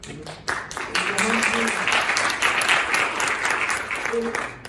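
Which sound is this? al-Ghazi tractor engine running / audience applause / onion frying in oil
audience applause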